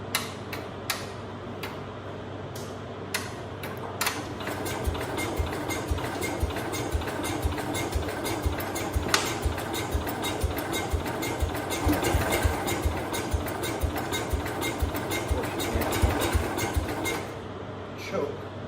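A 1969 Cub Cadet 105 garden tractor engine catches and runs at a rapid, ticking idle with uneven mechanical clatter, close by, while voices talk intermittently over it.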